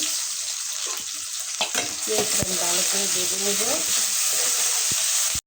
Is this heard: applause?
no